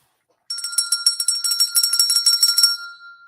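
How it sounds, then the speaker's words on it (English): A handheld bell rung repeatedly in celebration of an accepted real estate offer, a bright rapid jangle of strikes lasting about two seconds, close and loud, then fading out with no talk. "It's the money bell."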